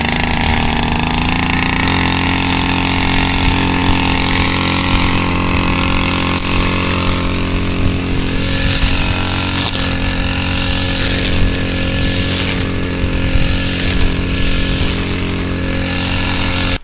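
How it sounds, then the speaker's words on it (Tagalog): Gasoline grass cutter engine running steadily at close range, a loud continuous buzzing drone with slight throttle wavering throughout, no talk over it. "Ayusin ko muna yung ating grass cutter"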